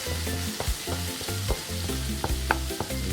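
Onions frying down in a pan, with a constant crackling sizzle under repeated scraping and knocking of a spoon stirring close by.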